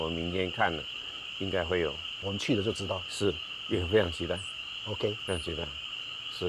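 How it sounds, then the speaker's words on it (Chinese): Frogs croaking at night in the Guanxi countryside of Hsinchu make a steady, shrill, unbroken chorus that runs beneath a conversation between several people. "今天听到这么美妙的蛙鸣的声音"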